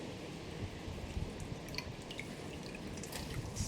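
Water dripping in a cup where sphagnum moss is being soaked, quiet scattered drips and small splashes over a soft, steady background with no talking.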